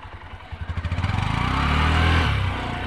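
A motorcycle engine chugs in slow, uneven pulses that quicken into a steady, loud, close drone, then ease slightly at the end.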